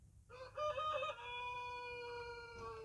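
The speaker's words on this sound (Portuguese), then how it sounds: "Ah, e um galo também." A rooster crows once near a veranda of an old house, a clear tonal call that rises then holds in a long drawn-out note over quiet background.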